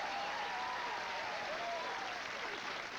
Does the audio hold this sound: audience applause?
yes